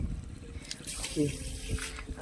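A hose pipe runs water over freshly plastered cement walls at a house construction site, giving a steady, fairly faint rushing and splashing with no clear breaks.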